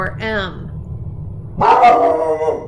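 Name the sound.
dog barking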